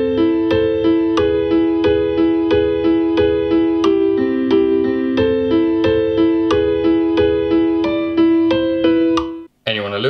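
A GarageBand loop recreating a song, with steady, evenly spaced synth or piano-like note hits over a sustained harmonic bed, loud and alone, stopping abruptly near the end before a brief new attack.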